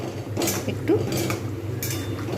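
Bori curry being stirred in a cooking pan, with a few soft scraping and clinking strokes of a utensil against the pan, close and moderately quiet over a steady background hum.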